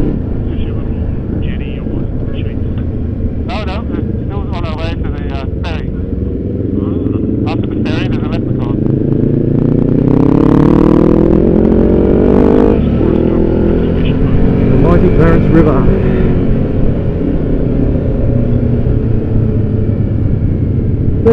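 A line of motorcycles idling and rolling at a border crossing gives a steady, close engine rumble that swells louder about halfway through and stays heavy to the end, with voices mixed in.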